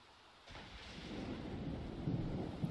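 Rain and rumbling thunder from The Sims 4 fade in and build into a steady, soft wash of rainfall with low rolling thunder, heard alone and fairly faint.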